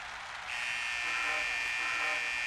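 A sustained electronic buzzer sounds at a Gundam Build Fighters battle to mark the end of the second round, starting abruptly after half a second and droning on steadily to the end over a low background hum.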